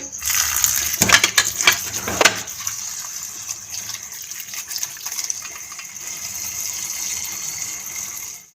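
Cut kachnar buds are washed in water, with splashing and clattering bursts at first, then a quieter steady flow of running water.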